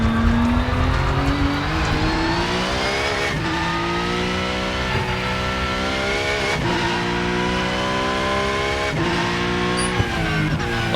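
A Porsche Cup race car at Spa in the Rennsport racing game, engine loud and close, revving up through repeated gear shifts as it spins out, with tire squeal underneath.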